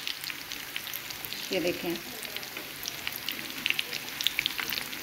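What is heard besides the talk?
chicken donuts frying in oil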